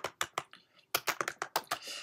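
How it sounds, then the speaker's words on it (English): Fingers typing on a computer keyboard in short bursts of quick, close key clicks with brief pauses, fairly quiet and with no talk. "I'm typing the folder name as drivers"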